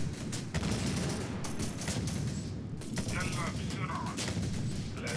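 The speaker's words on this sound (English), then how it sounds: "bring in an airstrike on one of these enemy tank units" An airstrike hits an enemy tank in the Syrian Warfare war game: repeated sharp bursts of gunfire and explosions crackle in quick succession, with a voice speaking over the battle.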